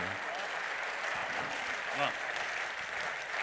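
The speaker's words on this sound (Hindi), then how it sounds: "तालियां आपकी कमज़ोर हैं" Applause from a crowd at a Hindi comic poetry gathering rattles along steadily at moderate volume, with a brief voice breaking through the clapping midway.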